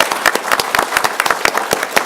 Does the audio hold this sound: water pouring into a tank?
no